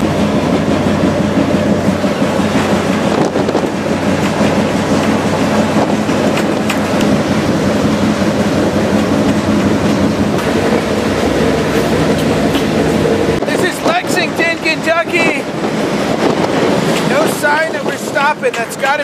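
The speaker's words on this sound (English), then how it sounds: "this train's not slowing down or stopping here" A freight train rolls past at speed without slowing near Cincinnati, Ohio, loud and close, with steady rumbling and rhythmic clacking of wheels over rail joints that continues throughout.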